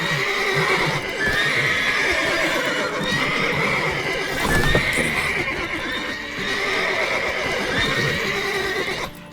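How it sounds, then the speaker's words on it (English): Horses in The Witcher 3 video game neigh and whinny repeatedly, loud shrill calls close by over soft hoof clip-clops and a busy ambient game background, with no talking. "Gotta calm all the horses before they wake the guards."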